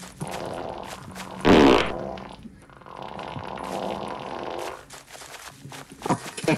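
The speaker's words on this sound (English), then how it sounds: "I'll fart on you back." A fart sound effect from the Roblox game Frogge bursts out loudly once, short and raspy, amid quieter game audio and background chatter, with a few softer sounds later.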